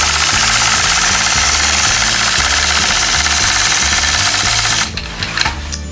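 A sewing machine quilts fabric guided by a quilting ruler, running in a loud, steady, rapid mechanical chatter close by for almost the whole stretch, then stopping abruptly near the end with a few soft handling clicks.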